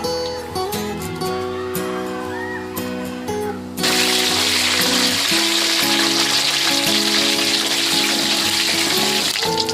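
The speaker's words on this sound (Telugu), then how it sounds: "ముందుగా ఈ కడాయిలో నూనె అయితే పోసి పెట్టుకోండి. జీలకర్ర, ఆవాలు అయితే వేసుకోవాలి ఫస్ట్." Cumin and mustard seeds hitting hot oil in a kadai, a sudden loud, dense sizzle that bursts in partway through and then holds steady and close, following a quieter stretch with background music.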